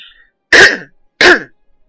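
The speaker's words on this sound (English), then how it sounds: "I need to cough" Two short, sharp coughs close by, about half a second apart, with silence around them.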